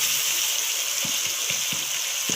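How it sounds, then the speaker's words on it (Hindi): Onions and crushed cumin fry with a splash of water in a pan for a desi chicken karahi, giving a constant close sizzle broken by soft scrapes and stirring. "पानी का थोड़ा सा छींटा लगा के ज़रा इसे और भूनेंगे"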